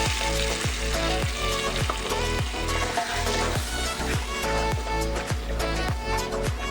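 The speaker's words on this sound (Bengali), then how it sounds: "বাটা মশলাটা দিয়ে একটু খুব ভালো করে কষিয়ে নিতে হবে" Ground spice paste frying in a pan for a Bengali egg dish, a loud continuous sizzle with a regular rhythm of spatula scrapes and knocks throughout, no talking.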